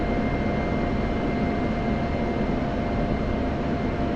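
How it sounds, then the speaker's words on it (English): Military aircraft arriving at an airport, a loud continuous broadband engine roar that holds steady throughout with no speech. "You guys are going to see how military aircraft arrive at airports."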